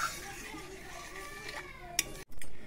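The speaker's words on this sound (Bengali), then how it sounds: "একটু নেড়ে দেব।" A spoon stirs cabbage curry with turmeric and salt in a cooking pot, giving soft scraping and a single sharp metallic clink, followed by a short louder burst of noise at the end.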